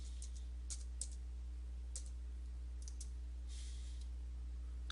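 A code is typed on a computer keyboard, bringing faint, scattered key clicks in short bursts over a quiet background hum, with no one speaking.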